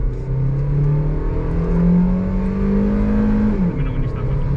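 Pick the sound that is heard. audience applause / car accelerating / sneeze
car accelerating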